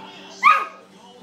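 A child imitates a dog with one short, bright yelping woof, a quick voiced bark that rises and fades within a fraction of a second over a faint background hum.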